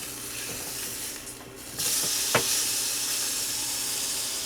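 A freeze-dried burger patty sizzles in a pan over low heat, a steady hiss of frying with one short crackling pop partway through.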